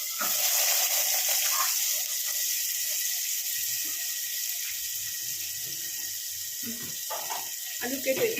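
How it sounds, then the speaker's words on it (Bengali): Cumin seeds and green chillies splutter in hot oil with a steady hiss and scattered pops, and a voice talks over the cooking. "এখানে জিরে আর কাঁচা লঙ্কা ফটফট করছে"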